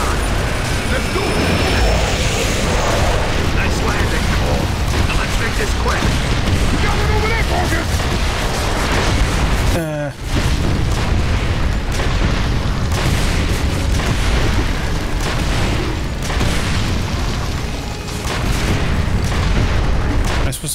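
Heavy weapon fire from a vehicle in Gears of War 2, a dense, loud barrage of booming shots and explosions that runs almost continuously, with a player talking over it and one brief pause midway.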